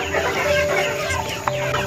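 Several chickens cluck and murmur close by, a busy overlapping chatter of short clucks with no talking.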